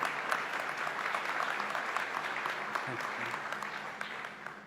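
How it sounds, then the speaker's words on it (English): Applause from an audience at a government announcement event in Niagara Falls, a steady, dense wash of clapping that sustains throughout at moderate loudness, with no speech over it. "I want to ask him to stand and give him a round of applause"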